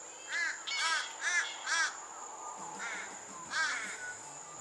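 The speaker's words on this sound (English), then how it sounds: "there's a couple of crows up there that really are not too impressed" Several crows caw from above at a beach in Manilya, a quick series of harsh calls followed by another after a pause, over a steady background of insect buzzing.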